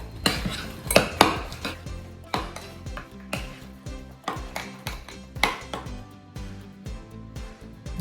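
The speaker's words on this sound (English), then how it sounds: "And then I'm just going to mix this all up." Frozen fruit being mixed in a bowl, with repeated clinks and scrapes of a utensil against the dish in a quick, irregular rhythm, close and fairly loud, with no talking.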